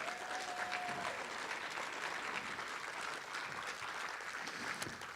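A room of people at a Democratic club meeting gives candidates a steady round of applause, dense and even, lasting several seconds at moderate level, with a faint voice near the start.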